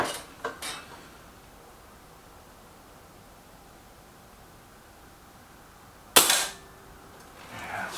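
A Reximex Myth bullpup air rifle fires single shots, sharp cracks with a metallic ring, one near the start and another louder one later, separated by quiet hiss.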